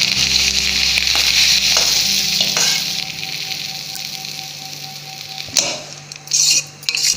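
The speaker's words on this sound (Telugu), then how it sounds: "పోపు పెట్టుకున్నాక అన్నంలో పోపుని ఇలా కలిపేద్దాము." Loud sizzling of a freshly fried tempering with turmeric as it goes into cooked rice for mango pulihora, followed by quieter stirring and a few metal scrapes and clinks of a spoon against the pan.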